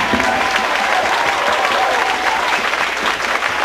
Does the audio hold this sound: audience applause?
yes